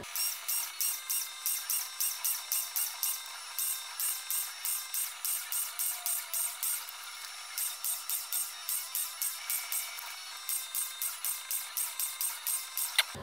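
A small drill with a 1.5 mm bit whines in short, high-pitched bursts, repeated in a quick, even rhythm with brief pauses, close by.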